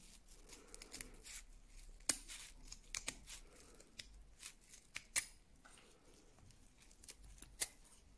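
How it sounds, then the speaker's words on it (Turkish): Strong scissors snipping through the ends of raffia yarn on a crochet bag, with a series of quiet, crisp cuts and rustling of the fibres at an irregular pace, close up and otherwise quiet. "şimdi şu alt kısmını hepsi eşit olacak şekilde kesiyorum"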